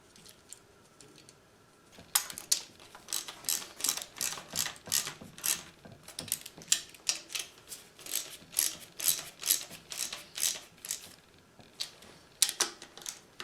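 Ratchet wrench clicking in quick bursts as nuts with lock washers are tightened onto the studs of a 1949–51 Ford Flathead engine, close and fairly quiet, with short pauses between strokes.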